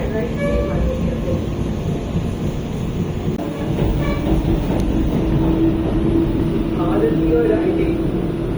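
Madurai–Bangalore Vande Bharat Express train running on the track, a steady loud rolling rumble with faint rhythmic clatter throughout, and voices under the noise.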